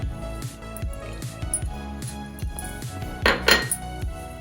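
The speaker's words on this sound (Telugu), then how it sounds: "ఈ మొత్తం అంతా కలిపేసుకుందాము." Cauliflower paratha filling with green chilli, carom seeds, salt and coriander is mixed in a bowl, giving steady clinks and scrapes of a utensil against the dish with a few louder knocks near the end, no talk.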